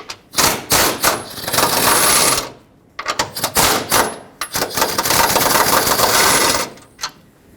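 A ratchet with a 13mm socket working fan bolts loose on a 2008-2010 Ford F-250, loud close bursts of fast clicking ratcheting in two long runs separated by a short pause, with a few isolated clicks.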